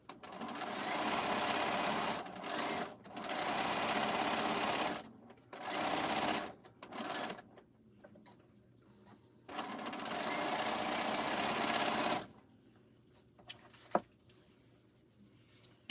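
Sewing machine stitching a quilt, running in long loud bursts with short stops between them, then a quieter stretch with a few faint knocks and a single sharp tap near the end.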